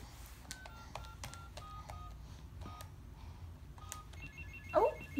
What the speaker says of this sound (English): You got a phone call.